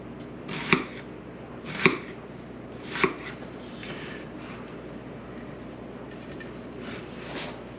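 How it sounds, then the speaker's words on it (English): A knife chops vegetables for striped bass ceviche on a cutting board, three sharp distinct strikes about a second apart, then softer faint cutting and scraping in a quiet kitchen. "take your time cutting everything up"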